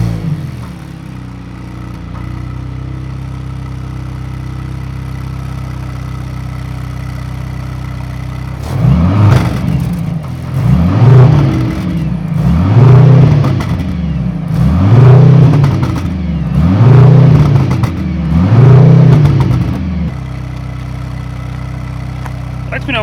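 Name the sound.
Mercedes-AMG C63 S E Performance engine sound check, revving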